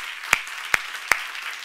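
Three sharp, evenly spaced hand claps ring out in a church seminar setting, each brief and distinct against a quiet room hum, with no voices.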